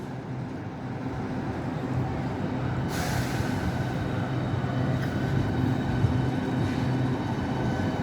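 A Southeastern high-speed 12-car train waits at Stratford International station, giving off a steady rumbling hum and a sudden airy hiss partway through.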